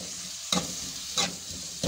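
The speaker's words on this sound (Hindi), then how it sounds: "जो प्याज ली है उसको हल्का सा इसमें फ्राई कर लेंगे" Onions frying in butter in a pan, a constant close sizzle with two sharp stirring scrapes, one near the start and one midway.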